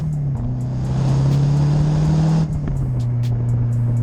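A Mazda MPS engine hums steadily at close range on a country B road, its pitch rising slightly then dropping as the driver eases off, with road rumble beneath.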